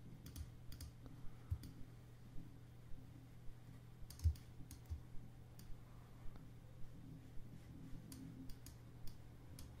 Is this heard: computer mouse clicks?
yes